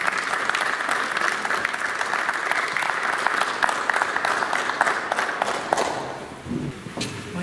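An audience at a local gathering honoring named members claps steadily and loudly for several seconds, then the applause tapers off, leaving a quieter room with a few stray claps.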